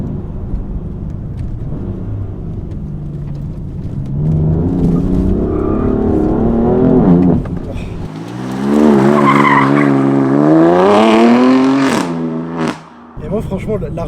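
BMW M4 F82 straight-six pulling hard under acceleration, its rising engine note sweeping upward through the gears with a brief lift between pulls, loud and close from inside the car while people talk.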